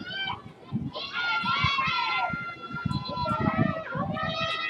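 Background cheering from the Japanese team at a softball game between Japan and Australia, a chorus of high voices calling out rhythmically, heard close and clear with some talk over it.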